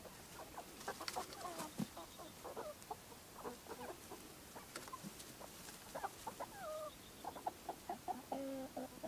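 Backyard hens cluck repeatedly in short, uneven bursts at close range, with a few louder squawks mixed in over a steady outdoor background.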